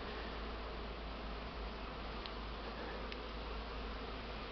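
Honeybees buzzing on a winter cleansing flight in February, a dense, steady swarm drone that fills the air evenly and continuously, close and unbroken, with no voices.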